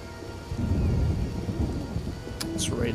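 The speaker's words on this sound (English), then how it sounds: "It's raining something serious." Heavy rain pours steadily with a deep rumble of thunder rolling through the scene in The Witcher video game, a brief brighter crack near the end, all fairly loud and continuous.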